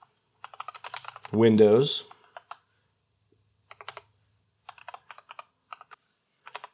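Keystrokes on a computer keyboard as a Windows registry value name is entered, scattered bursts of clicks before and after a brief spoken word, fairly quiet and close.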